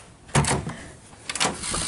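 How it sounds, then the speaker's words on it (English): A door being unlocked and opened at an Aikido summer camp: a sharp latch clunk, then a second burst of rattling and creaking as it swings open, close and fairly loud. "we're about to unlock the door"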